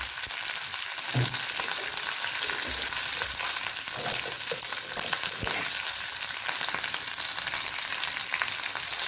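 Mustard seeds, curry leaves and a chilli sizzle and crackle in hot oil, a steady broadband frying hiss with scattered pops running for about nine seconds, close and alone with no talk.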